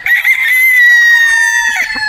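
A Boston Roundhead brood stag rooster crows close by, loud and alone, in one long drawn-out call that holds a steady note before trailing off with a few short clucking sounds at the end.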